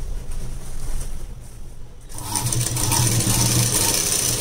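A sewing machine stitching a blouse runs steadily with a fast, even mechanical whir. It drops briefly, then comes back louder and busier, with no talk over it.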